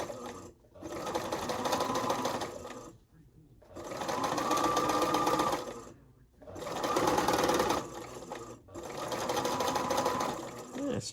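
A sewing machine stitches fabric for a flower patch quilt in four long, close bursts of rapid stitching, each separated by a brief quiet pause.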